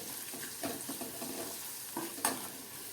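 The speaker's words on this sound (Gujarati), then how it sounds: "મસાલા નાખ્યા પછી આપણે મિક્સ કરીએ" Coriander-cumin powder, red chili powder and turmeric stirred into chilies frying in oil on a low flame: a close sizzle with scraping stirs and a brief utensil clink near the end.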